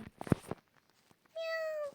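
A cat gives a single clear, drawn-out meow after a few soft scuffling sounds, close by and otherwise quiet.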